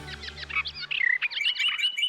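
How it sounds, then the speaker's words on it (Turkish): A bright, rapid electronic bird chirp from a small battery-powered device behind a bird photo trills in quick bursts, close and fairly loud, with a low hum at the start. "Bu kuşun fotoğrafının arkasına minik bir pil taktım. Öyle ötüyor."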